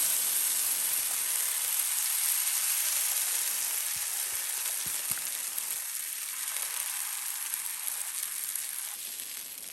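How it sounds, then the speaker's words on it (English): Food sizzles loudly and steadily in a hot pan, a constant crackling hiss with a few small pops, and no other sounds. "you're about to get to see this going into a hot pan and you're gonna wanna see and hear the sizzle"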